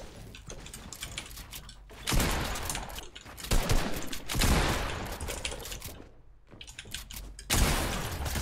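Gunfire rattles in a shooter video game, arriving as several loud, dense bursts separated by brief quieter gaps across the stretch.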